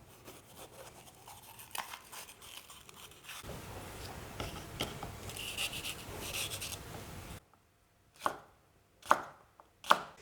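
Knife slicing red pepper on a cutting board for Thai green curry, cut on the bias: a run of close, crisp chopping strokes, then a brief near-silence followed by three sharp, distinct cuts spaced about a second apart.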